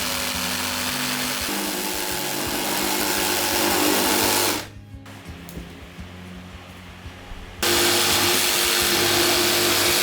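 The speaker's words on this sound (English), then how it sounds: "A jigsaw is perfect for this type of job." A jigsaw cutting an arch in wood on a new-build entrance, a loud continuous buzzing motor rasp that drops to quiet for a few seconds before the saw starts cutting again at full loudness.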